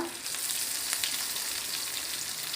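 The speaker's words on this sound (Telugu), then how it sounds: "ఈ ఆయిల్లో బాగా ఫ్రై చేసుకోవాలి" Chopped onions and tomato fry in about four tablespoons of hot oil, giving a loud, steady, close sizzle with no break and no talk over it.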